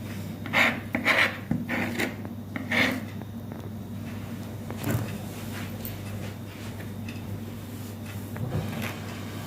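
A knife cuts through a raw lamb tongue on a board while preparing Romanian drob, giving a few close scraping, rasping strokes near the start, then quieter handling noises with no talk.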